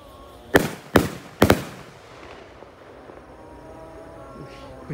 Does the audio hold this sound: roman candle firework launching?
yes